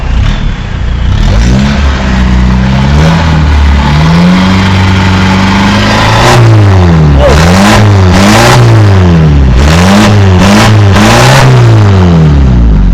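A powerful turbocharged Isuzu Dragon Eyes pickup engine, fitted with a D-Max 3.0 turbo, revs repeatedly, loud and close, climbing and dropping in pitch in quick bursts with a deep, throaty rumble between.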